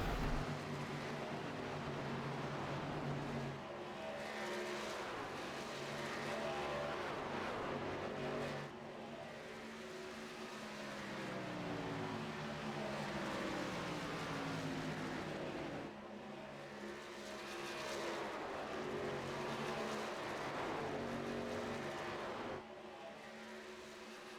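Race trucks roaring around an asphalt oval track, a continuous loud engine drone with rising and falling passes as trucks go by, distant and steady throughout.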